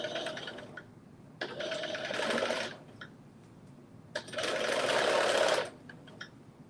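Sewing machine stitching a 5/8 seam in two bursts, each a fast rattling run of stitches lasting over a second, with quiet pauses between, close and clear.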